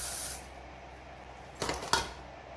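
A short hiss of hair spray at the start, then a quiet pause and two more quick bursts of spray close by.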